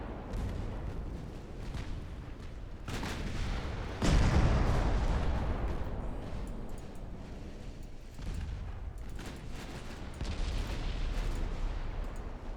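Naval gunfire in the warship game Ultimate Admiral Dreadnoughts, with light guns firing at light cruisers: repeated deep booms, one heavy blast standing out, over continuous rumbling battle noise.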